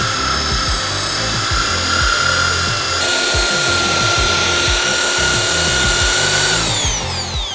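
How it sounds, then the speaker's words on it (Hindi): Steady, loud whine of a drill turning a brush through potatoes and water in a bucket, with rhythmic scraping and churning pulses that carry on throughout before the motor winds down near the end. "ड्रिल में जो बिट है उसकी जगह ब्रश घूम रही है।"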